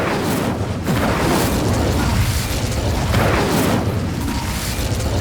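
An Incendio fire spell cast in Hogwarts Legacy, giving a sustained roaring whoosh of flame with rumbling booms that swell and fade over a few seconds, loud and continuous with no talk.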